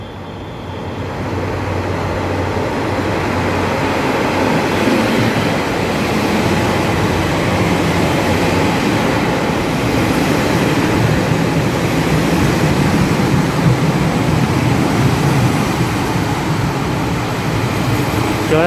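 A Puyuma TEMU2000 Tze-Chiang express train pulls into a station with a steady, loud rumble of wheels on rails and a low motor hum, building slightly and holding throughout without any talk.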